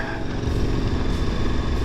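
A motorcycle rides along a sandy dirt road on the Idaho backcountry route, its engine a close, steady drone with rumbling wind and road noise.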